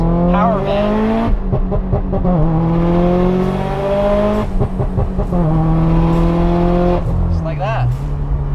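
Turbocharged Subaru STI with a big turbo on a small motor, built to about 730 wheel horsepower, revs hard and repeatedly through the gears with rising pitch sweeps between shifts, loud and close, while someone talks over it.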